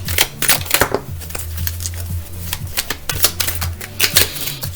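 Small tarot cards shuffled by hand, a run of quick crisp riffles and soft slaps arriving in uneven bursts over a low steady hum, close and moderately loud.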